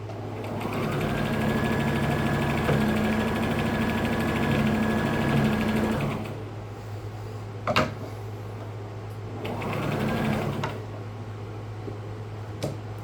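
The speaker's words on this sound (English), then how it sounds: "we're going to sew these strips together" An electric sewing machine stitches fabric strips together for a patchwork block, running in two steady whirring bursts with a short pause between them, close and fairly loud, with no talking.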